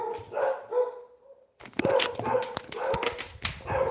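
A dog barks and yips outdoors in the Philippines, a few sharp barks close by, then a short quiet gap before a burst of faster, excited barking.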